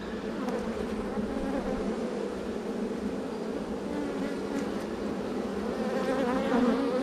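Honeybees buzz steadily and close up around a hive while swarm cells are taken down from comb full of brood; a dense, continuous hum with no talking.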